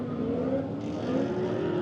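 A drift car engine hums steadily at low revs with a slight rise in pitch, heard from inside or near the car after a radiator line repair, with no talk.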